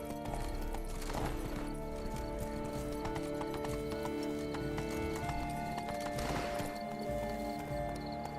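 Galloping horse hooves in the video game The Witcher 3 pound out a steady rhythmic clip-clop over layered game music and ambience, with a brief whinny, fairly loud throughout.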